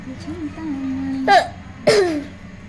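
Two sharp, harsh coughs a half second apart, preceded by a voice making a drawn-out vocal sound; close and fairly loud.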